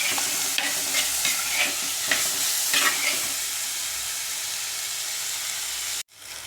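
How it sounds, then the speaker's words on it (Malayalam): Green chilies, sliced lengthwise, sizzle in a pan with small shallots for a spicy sardine curry, a steady frying hiss with stirring clatter early on, then an abrupt cut near the end. "നമ്മൾ ഇവിടെ നീളത്തിൽ അരിഞ്ഞു വെച്ചിരിക്കുന്ന 2 പച്ചമുളക് ഇട്ട് കൊടുക്കുക. നന്നായി ഇളക്കുക."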